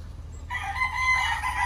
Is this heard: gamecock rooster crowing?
yes